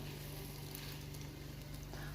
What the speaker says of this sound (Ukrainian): Смажу спочатку з одного боку, а потім з іншого.